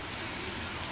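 Steady rain falls outside on a wet day, a dense, even hiss of drops on surfaces with no pauses over the whole second.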